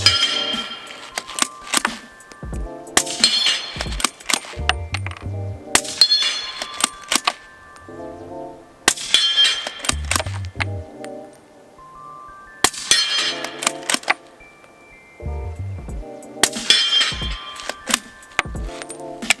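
Steel targets on a dueling tree ring out from rounds fired by a Q Mini Fix bolt-action rifle in .300 Blackout at 50 yards: sharp metallic clangs in irregular bursts, each strike leaving a bright ringing tail, with no talking.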